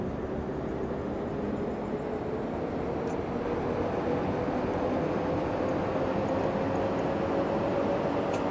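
A video game train comes in with a constant low rumble and a slowly rising hum, at a steady, fairly quiet level with no voices.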